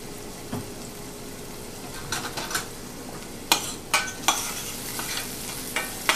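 Seasoned onions for a plant-based burger meal sweating in a pan, a low steady sizzle broken by several bursts of stirring and scraping with utensil clinks, close and without talk.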